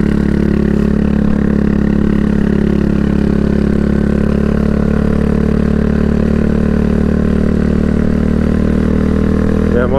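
Honda CB Twister 250 motorcycle ridden uphill in a high gear, its engine droning steadily and loud throughout, with a low, strained hum and little change in pitch.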